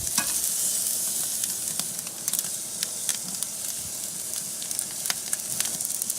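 Beef steak searing in a hot pan during a reverse sear, a continuous crackling sizzle dotted with sharp pops and spits, close up and steady for several seconds, with no voices.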